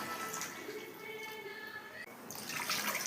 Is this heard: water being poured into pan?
yes